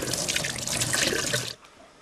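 Hands are washed under a running tap, a close, splashy stream of water with rubbing that stops abruptly after about a second and a half, leaving quiet room tone.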